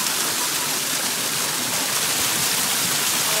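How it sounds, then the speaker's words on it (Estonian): A river flows steadily beside the bank in New Zealand, feeding a waterfall. The rushing is loud, dense and close, with no break and no voices. "me oleme praegu selle jõe ääres"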